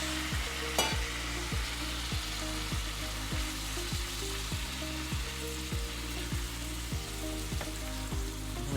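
Clam masala for a clam roast sizzles steadily in a pan while a spoon scrapes and stirs in regular strokes, close and moderately loud with no talking.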